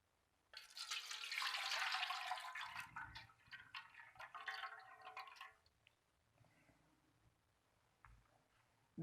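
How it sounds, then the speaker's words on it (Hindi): Water is poured off soaked potato slices being prepared for crispy chips, a loud gushing splash for about two seconds that tapers into quieter trickling and dripping, with no talk. "पानी को निकाल लेते हैं।"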